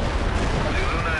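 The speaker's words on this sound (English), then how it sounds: "That's some explosion." A massive explosion in the World in Conflict video game, set during a Soviet attack on Seattle, fills the clip with a loud, continuous low roar and rumble, with no voices.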